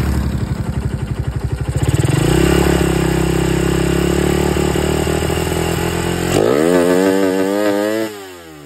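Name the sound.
motorcycle engine revving at full throttle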